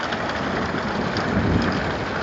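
Dense, loud summer rainfall heard from a veranda, pouring steadily with a low rumbling undertone, like a storm close by, with no voices.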